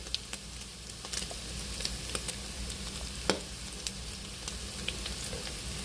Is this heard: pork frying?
yes